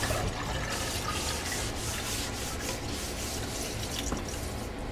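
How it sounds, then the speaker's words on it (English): Soft, steady rubbing and swishing of a paper towel wiping excess water off the top of a Sta-Wet paint palette, close up, with faint watery drips and no talking. "Take a piece of paper towel and wipe away the excess water on the top."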